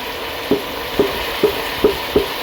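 Tomato and a spice mix cook in a pan for macaroni, with five evenly spaced stirring scrapes over a low, steady sizzle. It is close up and no one speaks.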